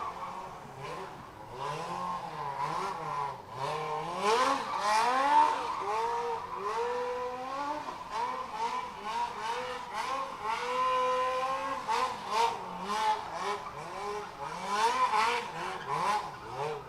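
Loud race cars at a test and tune drag event, engines revving hard in rising and falling sweeps with tire squeal, several passes close by and continuous over the whole stretch.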